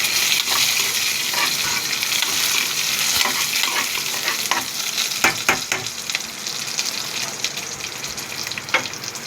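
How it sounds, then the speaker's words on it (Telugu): Sliced okra and carrots sizzle steadily in a hot oiled pan while being stirred, with scraping clicks and occasional louder pops over a continuous close frying hiss; no one speaks. "ఇదో బెండకాయలు, క్యారెట్ వేపుతున్నాను."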